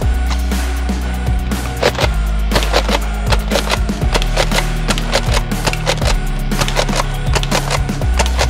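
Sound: AK47 rifle gunfire in a shooting video game

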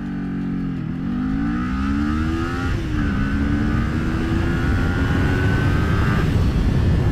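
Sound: sport motorcycle accelerating hard

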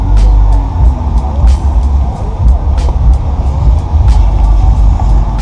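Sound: lowered Chevrolet Corsa driving off at a night car meet

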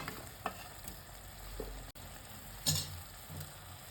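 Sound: gobi manchurian cauliflower stir-frying in pan

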